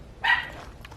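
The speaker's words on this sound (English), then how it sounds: "Oh, that little doggy. He's barking at me." A small dog gives one short, sharp bark at a distance in a garden, brief and moderately loud over faint outdoor background noise.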